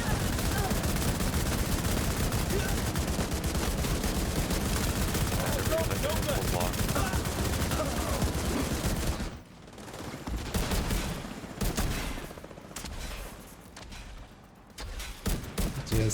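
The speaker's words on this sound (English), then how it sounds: "I'm a firing my rifle." Rifle gunfire in a video game, rapid loud shots and bursts firing continuously for several seconds, then dropping away into quieter scattered shots with a voice talking over part of it.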